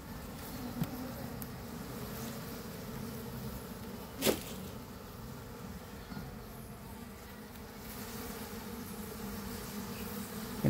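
Bees buzzing around a hive in a box, a steady close hum of many insects with a low drone underneath and one brief louder buzz passing near the microphone midway, no talking.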